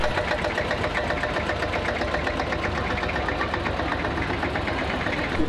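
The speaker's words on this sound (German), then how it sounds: "Zum Schluss treffen die Oldtimer-Freunde Westheim mit einer Treckerparade ein." Several vintage tractors in a parade by a classic-vehicle club at a village fair, their engines chugging and knocking steadily and loud throughout, a dense rumbling mix with no talk.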